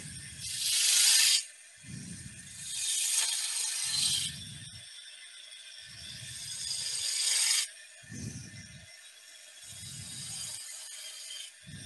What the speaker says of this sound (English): Now, using a spindle gouge.